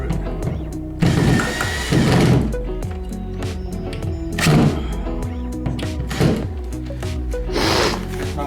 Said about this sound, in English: Now you can screw it.